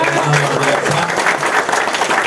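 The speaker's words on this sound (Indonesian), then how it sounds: "Bapak Ibu beri aplaus dong buat mereka" Audience applause at an indoor business meeting in Semarang, a steady dense clapping from a crowd that fills the room throughout, loud and continuous with a faint voice underneath.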